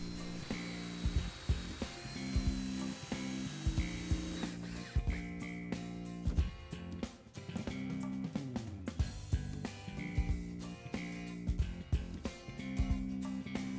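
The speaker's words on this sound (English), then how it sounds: "just clamp and screw the remaining boards into place" Southern pine boards being screwed into place on a potting table, with a power driver whirring in repeated bursts punctuated by clicks and knocks of wood, close and fairly loud throughout, with no talking.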